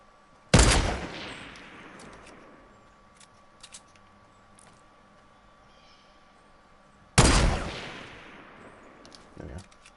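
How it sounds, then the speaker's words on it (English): Two loud, sharp gunshots from Fortnite Battle Royale, about six seconds apart, each with a long echoing tail, with faint clicks and small sounds between them. "Dean's getting shot from the side too"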